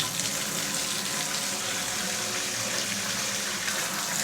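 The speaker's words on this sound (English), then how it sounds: "I'm going to fill it up with steaming hot water." Steaming hot tap water runs steadily into a laundry trough, a constant rushing fill with no break and no voices.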